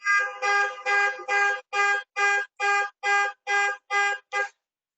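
A car horn or alarm blares a rapid series of about eleven loud, bright tonal beeps, evenly spaced over several seconds and then stopping abruptly, with no talk.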